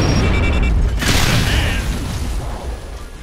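A grenade explodes in a multiplayer shooter game as one sharp, loud boom that decays into rumble, under faint talk.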